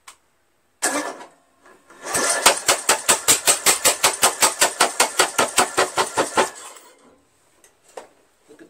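A Briggs & Stratton 17.5HP engine on a Craftsman lawn tractor, running with its muffler off and a new coil fitted, gives a loud, close, rapid chugging of evenly spaced pulses for about four seconds before cutting out.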